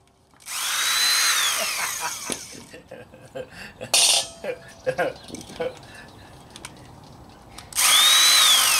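A pneumatic impact wrench chatters loudly as it loosens wheel nuts on a VW Beetle, with a long opening burst, shorter intermittent bursts in the middle, and a final sustained burst, while someone talks between them.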